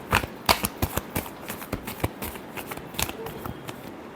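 Tarot cards being shuffled by hand, a steady run of crisp riffling snaps and flicks repeating in quick bursts, close and fairly quiet with no voice over them.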